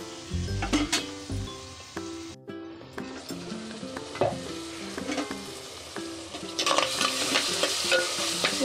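Ginger garlic paste sizzling and being stirred in a hot pan, with steady frying crackle, scraping of a spoon and occasional clinks against the metal, close and clear without talk.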